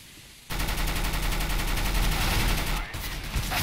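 Sustained automatic gunfire from a Counter-Strike: Global Offensive match bursts in loud and dense after a quiet moment, runs for about two seconds, dips briefly, then returns with a few more shots.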